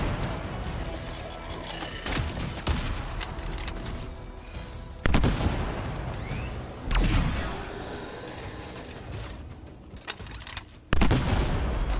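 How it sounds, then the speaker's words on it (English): Sniper rifle shots boom in the video game Anthem, several heavy reports spaced seconds apart over continuous combat noise and explosions. "Let's get some distance, use my sniper rifle."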